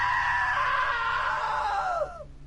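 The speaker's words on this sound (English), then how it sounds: "Now that was a great scream." A loud, sustained scream from a character in the video game What Remains of Edith Finch, holding steady for about two seconds before breaking off and trailing away, with no talk over it.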